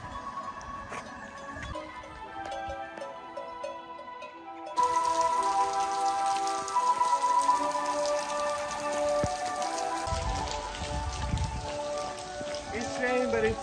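Rain falling along a coastal walking route on the Camino del Norte in Spain, a steady patter that swells louder partway through, with a voice in the background.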